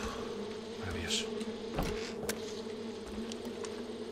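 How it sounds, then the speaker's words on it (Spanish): Bees buzz in the video game Far Cry 5 near a wasp nest, a steady faint drone with brief closer passes over a low continuous game ambience and background hum. "Oigo abejas."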